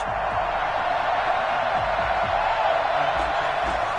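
A simulated Baltimore stadium crowd in Madden 21 keeps up a continuous, even roar, with a commentator's voice talking over the din.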